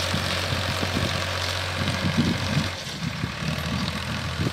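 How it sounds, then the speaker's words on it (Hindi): Farmtrac 45 tractor running steadily in a field during sugarcane sowing, a continuous low engine drone with rumbling throb, close and fairly loud throughout. "आवाज़ बड़ी धांसू है ट्रैक्टर की"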